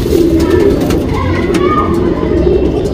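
A racing pigeon cooing close by, low soft throaty coos over a steady background of other birds, with no talking.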